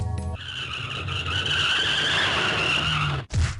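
A car in the visual novel Never7 skids toward someone with a loud, sustained tire screech that ends in an abrupt cutoff and a short final burst.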